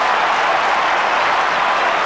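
A stadium crowd of nearly thirty thousand at an Australian football match between Hawthorn and Port Adelaide cheers and applauds a mark. It comes as a loud, dense, continuous roar of clapping and voices from near and far.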